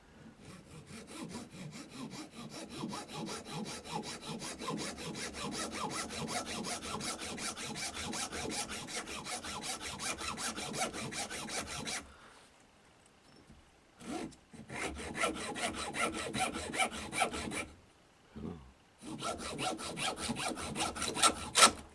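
Steady back-and-forth hand sawing through hard material during charango repair, rapid rhythmic strokes up close, pausing briefly twice before resuming.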